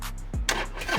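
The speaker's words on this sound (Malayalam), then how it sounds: "ചാവി കയ്യിൽ പിടിച്ചാൽ ഇത് പോക്കറ്റിൽ ഇടുക, സെൻസർ വണ്ടി ഓൺ ആക്കുക." A Harley-Davidson Sportster with a keyless proximity sensor cranks and starts up close, with a brief whirring starter followed by a rising engine catch at the end.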